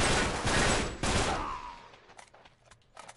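Burst of gunfire from the video game Uncharted 3, dense loud shots for the first second and a half, then fading into scattered shorter distant pops.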